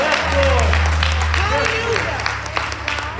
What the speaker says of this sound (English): Somebody give God a round of applause.